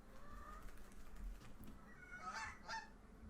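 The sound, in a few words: goose honking in the video game Backbone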